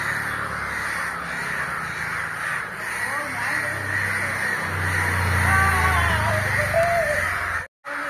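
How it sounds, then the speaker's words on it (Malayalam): A flock of crows caws noisily and continuously nearby, overlapping harsh calls forming a dense racket as the birds gather around a young crow that was electrocuted, with a low rumble underneath. "ഒരു കൂട്ടം കാക്കകളുടെ ബഹളം"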